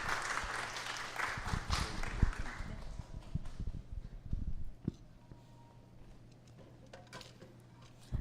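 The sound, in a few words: applause welcoming a speaker in church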